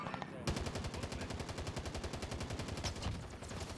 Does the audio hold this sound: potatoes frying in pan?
no